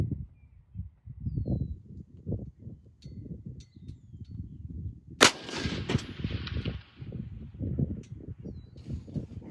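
A single sharp rifle shot from a Sig Cross firing a Hornady Hunter factory load cracks out midway and trails off in a ringing echo across open ground, over a steady rumble of wind or handling noise.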